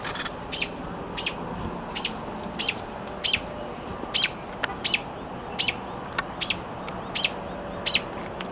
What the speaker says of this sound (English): Mama bird.